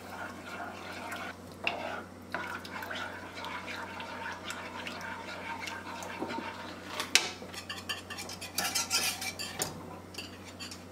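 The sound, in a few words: stirring milk into a thickening sauce in a pan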